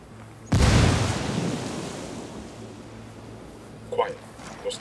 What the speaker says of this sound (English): Those tangles heard that explosion.